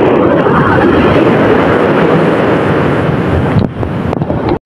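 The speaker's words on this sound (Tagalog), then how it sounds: "Ngayon lang po ako nakakita ng malalaking alon dito sa Sambayan." Large ocean waves break at a beach at Sambayan under strong wind, a loud, steady roar of surf with heavy wind buffeting the microphone throughout, before a sudden cutoff at the end.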